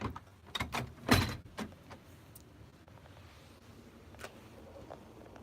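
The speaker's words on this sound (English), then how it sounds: "if I open the window for you, see if I can reach the window" A window is pushed open: a few quick knocks and a rattling clunk of the frame in the first second, then a quiet, steady outdoor ambience.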